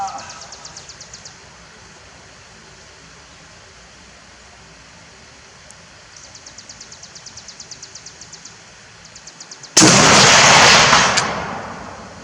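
A single loud rifle shot from a Springfield M1C Garand fitted with an M82 scope, fired outdoors at a range. A sharp blast with a short fading tail breaks in after quiet stretches of faint insect-like ticking.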